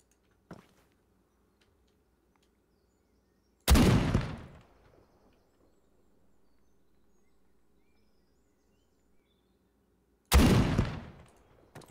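Gunfire in the video game Exile comes as a faint short shot, then two loud sharp bursts several seconds apart, each trailing off into quiet.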